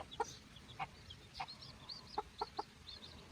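A mother hen with eleven chicks newly hatched under her, giving several short, soft clucks and peeps spaced irregularly over a faint background.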